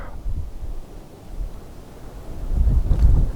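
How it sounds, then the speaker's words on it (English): Gusty wind buffets the microphone at a long-range rifle range, a low rumbling roar that dips in the middle and builds stronger toward the end, with no voices. "But the wind it's not consistent"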